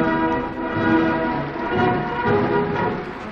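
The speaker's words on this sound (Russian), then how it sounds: "Поезд прибыл в столицу нашей Родины." An electric freight train arrives on the newly electrified Baikal–Moscow railway in 1961, a continuous rumbling, rolling roar with gently swelling loudness and no talk over it.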